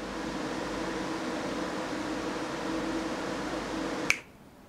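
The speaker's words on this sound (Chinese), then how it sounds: "通过手动调整风扇转速，将噪音调整至这一个水平" Steady broadband whir of the fans on a VK V36 AMG 360 mm liquid CPU cooler turned down to reduced speed, a constant faint hum that cuts off abruptly after a sharp click near the end.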